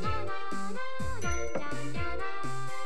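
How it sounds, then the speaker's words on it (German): Bells in the farming video game HomeTown Story chime in a quick repeating pattern of bright, clear tinkling tones, tidy and regular, with no talk over them. "Ist nur am Klingeln hier in einer Tour."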